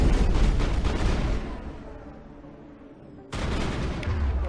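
Rapid gunfire and heavy blasts from a combat sequence in the Mass Effect video game, played on Insanity difficulty, loud and dense at the start, easing to a lull, then bursting back in near the end.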